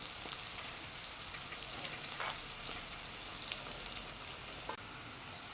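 Onions fry in a pan for prawn sambal, giving a faint, steady sizzle with dense crackling and small pops, plus a brief stir or two.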